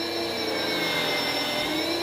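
A Dyson DC17 upright vacuum cleaner, fitted with a new belt and roller brush, runs on tightly knit short-nap carpet, giving a loud, steady whining roar with no breaks.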